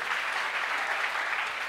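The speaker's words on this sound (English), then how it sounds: "Give Jesus a clap" A church congregation claps steadily in a dense, continuous burst of applause that fills the whole moment, with no break in the sound.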